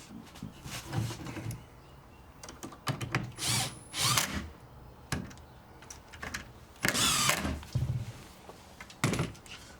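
A power drill drives screws into pre-drilled holes in a honeysuckle bench, several short whirring bursts separated by pauses and handling knocks, close and moderately loud with no talking.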